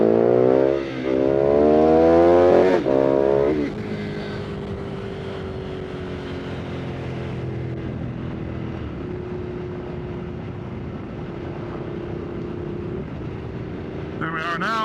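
A motorcycle exhaust at a steady cruise in fifth gear around 55 mph, a continuous engine drone with a brief loud surge of rising revs near the start, then an even, sustained hum to the end.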